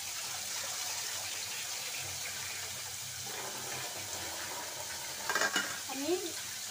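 Onions sizzling in a small amount of oil for a katla fish and pointed gourd curry, a steady broadband hiss of frying, with brief clinks and a short stirring scrape near the end.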